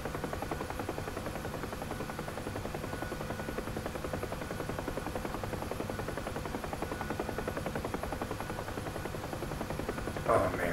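A Huey helicopter flying in the DCS combat flight game gives a constant, loud rotor buzz and engine whine, with a steady pulsing thrum that continues without a break, rising slightly near the end.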